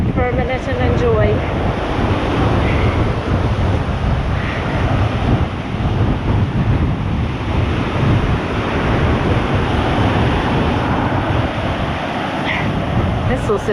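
Wind and surf at Pātaua beach, a loud steady roar of breaking waves mixed with heavy wind buffeting the microphone, continuous throughout.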